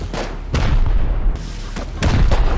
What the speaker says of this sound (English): They just shot their own base!